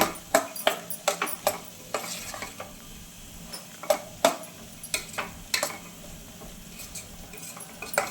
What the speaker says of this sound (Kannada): ತರಕಾರಿ ಸ್ವಲ್ಪ ಎಲ್ಲ ಎಣ್ಣೆಲಿ ಫ್ರೈ ಆಗಲಿ